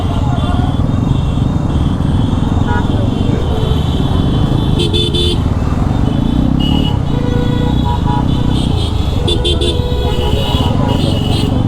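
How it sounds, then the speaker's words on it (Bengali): A crowd of motorbikes rides the road to Sajek in the Eid season, a constant dense engine drone close by with occasional short horn toots cutting through. "বাইক আমার সামনে 4-5টার মতো আছে, আর পিছে অনেক অনেক অনেক বাইক"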